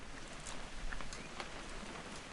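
Rain falls steadily in What Remains of Edith Finch, a soft, even wash of drops with a few brighter patters, faint and with no voices.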